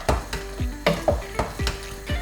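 Beans simmering in a pan with smoked paprika and cayenne being stirred in, a spoon scraping and clinking at a steady rhythm of about six strokes over a soft sizzle, close and alone.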